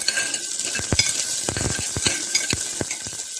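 Onion and garlic frying in oil with mustard seeds and cumin, a steady close sizzle with a spoon stirring and clinking against the pan at irregular intervals, and no voices.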